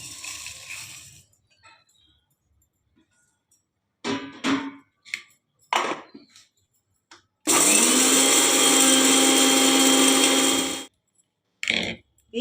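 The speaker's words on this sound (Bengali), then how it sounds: "এবারে আমি এটা গুঁড়ো করে নেব" An electric grinder crushes fried ingredients for mango pickle in a loud, steady whirring burst lasting a few seconds, with scattered clatters and handling knocks before and after.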